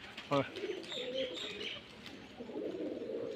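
Giribaz flying pigeons coo softly nearby in low, rolling phrases, with a brief sharper chirp near the start and faint voices in the background.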